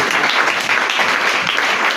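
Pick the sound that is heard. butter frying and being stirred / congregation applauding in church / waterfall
congregation applauding in church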